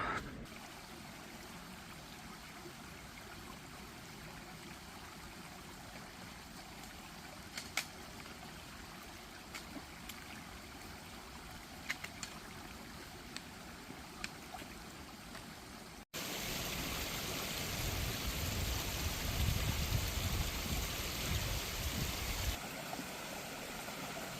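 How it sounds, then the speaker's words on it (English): River flowing along the Appalachian Trail, a steady rushing stream that grows louder and closer partway through, with a few faint clicks over the constant water noise. "We just came across a really beautiful river here."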